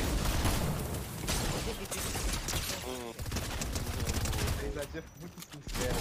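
Rapid bursts of video game gunfire crackle through a noisy live stream, dense and continuous, mixed with in-game effects and music under steady background sound.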